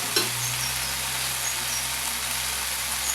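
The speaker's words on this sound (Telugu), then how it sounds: "ఇప్పుడు దీనిలో కారం వేసుకుందాం." A steady, close sizzle of bottle gourd curry frying in a pan as chili powder goes in, with a faint stirring scrape near the start and a continuous crackle and hiss throughout.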